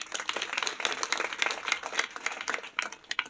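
An audience claps at a kirtan performance, a dense, steady wash of many hands with sharp irregular peaks, fairly close and loud, with no voices heard.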